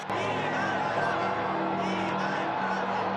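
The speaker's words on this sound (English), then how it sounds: "The crowd in St. Peter's Square erupted in excitement." A large crowd in St. Peter's Square cheering at the announcement of a new pope, a sustained roar of voices and whoops heard at a distance as a continuous wash with no single voice standing out.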